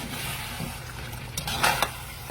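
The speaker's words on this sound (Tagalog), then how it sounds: "pag kumulo na, bigyan ulit natin siya ng isang mahilab-hilab na halo" A pot of balbacua stew is stirred as it boils, a short burst of scraping and bubbling with a couple of brief louder knocks midway.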